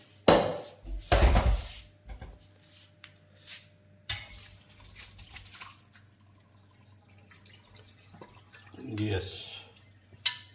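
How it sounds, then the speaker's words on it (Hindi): Blanched basinga vegetable strained through a kitchen sieve, with water dripping and splashing and metal utensils clinking in short bursts near the start and again toward the end, while a voice speaks briefly. "और अब आप इसको फिल्टर कर देंगे छन्नी में छान के।"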